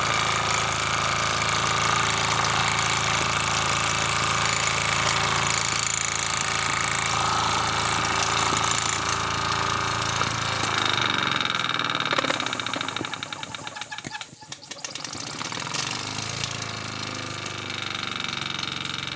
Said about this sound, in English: This is the first time I've seen this engine running.